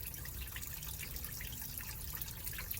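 Water flushing out of the radiator of a 35 kW Briggs & Stratton standby generator during maintenance, a faint, steady splashing and trickling that runs evenly throughout.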